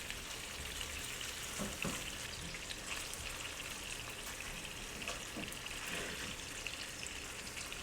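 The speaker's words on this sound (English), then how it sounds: "Take all your chops and turn them over." Lamb chops sizzling steadily in a hot pan after being turned over, a dense even frying hiss with faint crackles and a few soft utensil taps, no speech.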